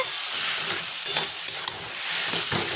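Taro leaves cooking with turmeric, salt, cumin powder and chili sizzle steadily in a pan, with several sharp scrapes and clacks of stirring standing out over the close, continuous frying hiss.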